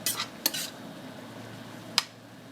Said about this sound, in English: as we're deglazing, we're just going to stir the bottom and get those wonderful brown bits up